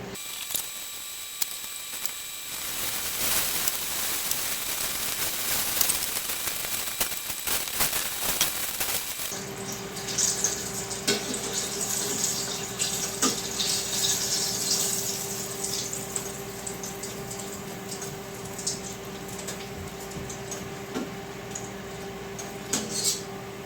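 Fish pieces drop into hot oil and fry with a steady, dense crackling sizzle that continues for over twenty seconds, broken by occasional clinks of utensils, with a low hum underneath.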